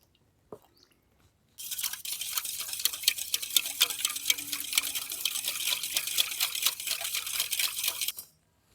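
White cooking oil poured into a milk-and-sugar batter for an eggless zebra cake, a steady close liquid stream with faint stirring clicks running for about six seconds, then stopping.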